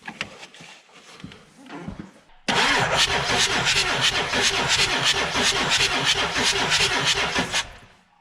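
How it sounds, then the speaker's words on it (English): A Ford F550 with a 7.3L Powerstroke diesel turns over on the starter after about two and a half seconds of quieter rustling, then cranks loudly and steadily with a rapid rhythmic chug for about five seconds before stopping. "we're going to rotate the engine over and blow that out"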